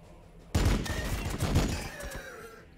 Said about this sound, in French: Donc, ça, c'est le bolter.